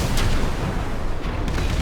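Boss mech in Armored Core 6 firing its back-mounted cannon: a dense, loud, continuous booming roar of heavy gunfire and explosions throughout, with no voices.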